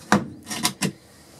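A drawer in a 2006 Swift Ace Supreme Globestar caravan slides open and shut, giving a few quick wooden rubs and knocks in close succession.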